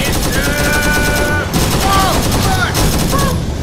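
Rapid gunfire rattles almost nonstop as players gun down zombies in Arma 3, loud and close, with excited voices shouting over the bursts.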